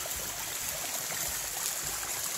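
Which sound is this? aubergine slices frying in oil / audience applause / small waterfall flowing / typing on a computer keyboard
small waterfall flowing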